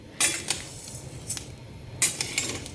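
Grains for thalipeeth flour being dry-roasted in a pan, a spoon scraping and clinking against the metal in a few sharp, irregular strokes over a steady low background.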